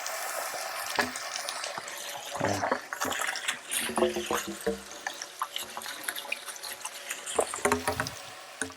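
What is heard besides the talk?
water flowing from hose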